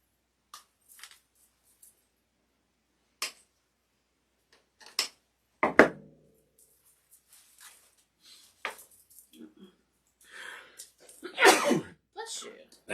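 A single sharp human sneeze near the middle, amid quiet conversation and light tapping sounds while a summer floral centerpiece is arranged indoors.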